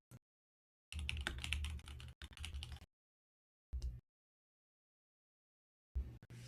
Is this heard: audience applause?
no